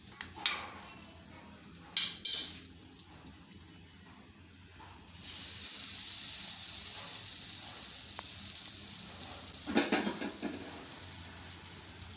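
Bread pakoras frying in a pan of oil give a steady, fairly faint sizzle with a few brief clatters of utensils, and a louder scrape near the end.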